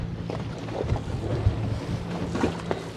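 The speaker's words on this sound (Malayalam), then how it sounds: "കാറ്റ് കൂടി എന്ന് പറയുമ്പോഴേക്കും നല്ല വേവ്സായി നല്ല റോളിങ്ങും ഉണ്ട്" Strong wind buffets the microphone while waves slosh and a fishing boat at sea rumbles and rolls, with no voices.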